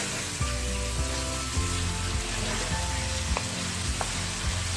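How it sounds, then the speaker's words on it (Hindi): Chicken strips sautéing in a pan for a curry khaosay, a steady loud sizzle with occasional stirring knocks throughout. "हमें उस वक्त तक सोते करना जब तक ये चिकन गल ना जाए।"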